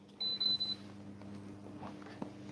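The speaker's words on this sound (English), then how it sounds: "why is it beeping?" Cheap AI tracking gimbal emitting a short run of high, clear electronic beeps, about four pulses in quick succession, close by over a low steady hum, followed by quiet room noise.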